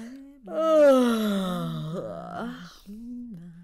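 A storyteller's voice imitates a wolf yawning in a children's tale: one long, drawn-out, groaning yawn that slides downward, then trails off into a softer murmur.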